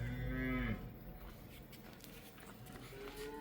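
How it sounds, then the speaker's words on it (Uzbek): A bull calf for sale in Samarkand gives one long, loud low moo up close, followed by quieter farmyard shuffling and faint movement. "Mana molimiz."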